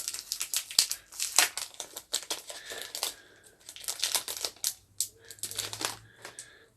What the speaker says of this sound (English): So let me get the cards open here.